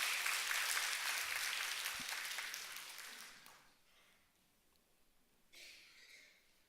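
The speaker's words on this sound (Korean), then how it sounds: "우리 수고 많으신 장로님들 위해서 박수 한번 합시다." A church congregation applauds its elders, a broad wash of clapping that fades out after a few seconds into a quiet room, followed by a brief faint rustle.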